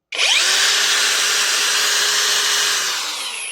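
A repaired Parkside Performance X20V Team cordless angle grinder, fitted with a 4Ah battery, spins up sharply and runs at full speed with a loud, steady high whine, easing slightly toward the end.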